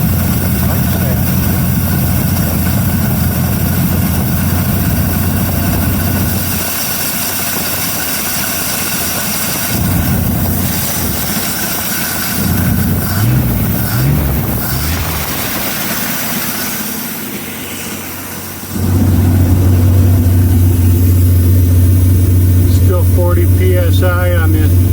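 A 1933 Auburn V12 boat tail Speedster engine, running again after 58 years in a museum, drones steadily at close range, then its pitch rises as it revs and settles into a deeper, louder run, with voices talking over it.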